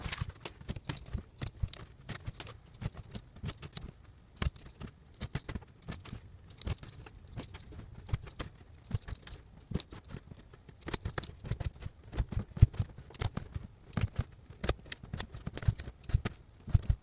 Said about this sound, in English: I have now cut in these little grooves into the cardboard up to the line at every 1/4 inch.